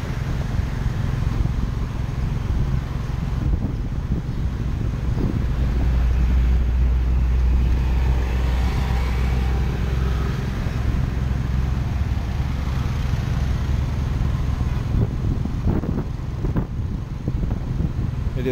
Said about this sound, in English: I decided to take a Tuk Tuk ride